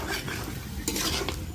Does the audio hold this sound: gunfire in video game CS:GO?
no